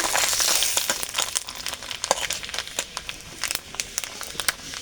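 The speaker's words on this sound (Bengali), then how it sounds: "সরষের তেল, তেলটা গরম হয়ে গেছে, দিয়ে দেবো 2টো শুকনো লঙ্কা, 5 ফোড়ন আর তেজপাতা।" Two dry chillies, five-spice and a bay leaf hit hot mustard oil, giving a loud crackling sizzle that starts as a bright hiss and settles into sharp, irregular pops and spits, close by with no speech.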